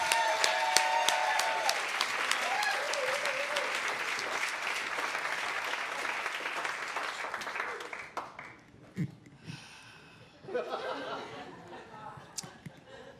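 Loud sustained applause from a comedy show audience for a comedian, with some cheering, fading after about eight seconds into scattered claps and brief murmurs.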